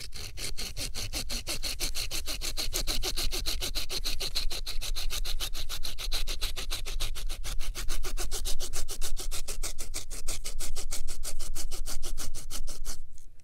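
A knife cutting a plastic bottle: a continuous rapid rasping, sawing stroke pattern, close and fairly loud, running nearly the whole time before stopping abruptly at the end.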